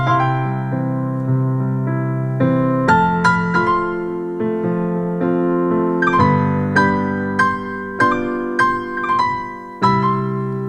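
Piano playing a song in country slip-note style, with quick grace notes sliding into the melody notes over sustained chords. The playing is close and continuous, with no voices.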